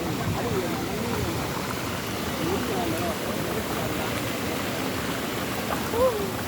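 Water flows steadily past a traditional irrigation water wheel in Houaphanh, Laos, with a continuous close rushing hiss. People talk over it throughout.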